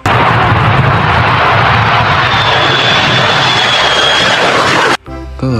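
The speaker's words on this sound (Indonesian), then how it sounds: "Ada pesawat jet tempur." A toy fighter jet makes a loud, sustained roaring engine sound with a rising whine partway through, then stops suddenly near the end.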